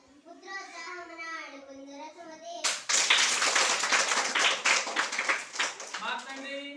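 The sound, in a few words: children clapping hands in classroom game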